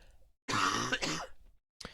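A single harsh cough, rough and throaty like a throat clear, bursts out close by, followed by a short gasp afterward.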